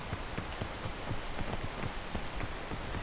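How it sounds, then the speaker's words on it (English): Rain in the video game Peak, a steady, dense patter of drops striking a surface, with soft individual taps standing out over a continuous quiet hiss. "I'm gonna wait until it stops raining."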